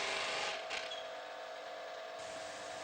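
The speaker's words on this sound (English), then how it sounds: "With the grinding wheel running, grind each of the wings first." A bench grinding wheel sharpens the wings of a woodturning tool, giving a faint, steady abrasive hiss that swells briefly near the start and again toward the end.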